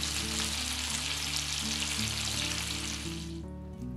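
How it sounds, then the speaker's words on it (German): A tomato, chili and garlic chutney with tomato slices sizzles in a pan over medium heat, a close, steady, dense frying hiss that eases slightly at the end. "5 Minuten köcheln lassen."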